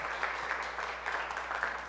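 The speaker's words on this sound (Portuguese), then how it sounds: "Dá uma salva de palmas." Church congregation applauding together during a worship service, a steady wash of clapping with no breaks, moderately loud and evenly sustained throughout.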